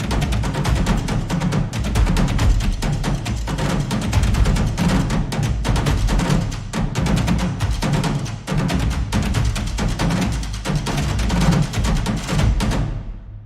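Layered epic trailer percussion beat, with booming low drums under sharper high drum hits in a steady, dense, loud pattern that runs unbroken and ends with a brief fade.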